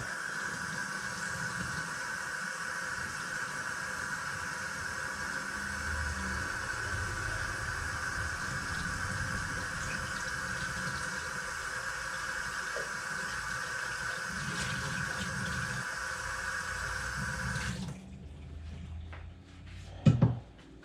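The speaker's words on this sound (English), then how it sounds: "So let me rinse this off a second." A part being rinsed under running water in a workshop during work on a 1964 Jaguar MKII makes a steady, even hiss for about seventeen seconds. It then cuts off, leaving a few faint clunks and one louder knock.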